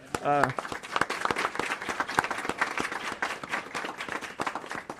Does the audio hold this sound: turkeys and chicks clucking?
no